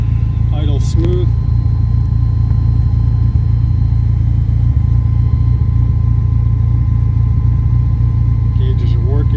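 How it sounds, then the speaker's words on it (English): A 1989 Ferrari 328 GTS engine idles with a steady, low continuous rumble throughout, joined by brief faint clicks and a short chirp near the start and end, with no talking over it. "Engine starts right up, idle smooth."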